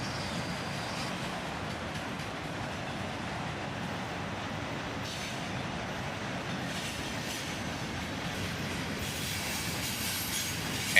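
Freight train rolling past with a mix of cars, among them auto racks, an old Conrail car and a Grand River Railway covered hopper, its wheels rumbling steadily on the rails with occasional squeals, close and continuous throughout.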